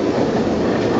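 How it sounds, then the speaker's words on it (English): A Wengernalp railway train passes near Lauterbrunnen, its wheels clattering in a quick, dense rhythm over the rails, loud and close, with no voices. "it's another one of the Wengenalbahn trains"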